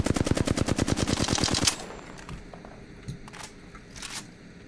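Rapid automatic weapon fire in the Apex Legends video game, a dense burst of evenly spaced shots lasting under two seconds, then quieter scattered game sounds and a few sharp clicks.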